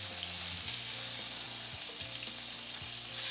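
Bacon sizzling loudly in a cast iron skillet full of fat, a steady crackling hiss with occasional sharper pops and scrapes, no voices.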